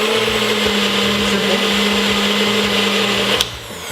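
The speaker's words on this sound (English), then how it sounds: "In your bullet, like a food processor or blender as well." A bullet blender purees watermelon with a loud, steady whirring motor drone that runs nearly four seconds before cutting off abruptly near the end.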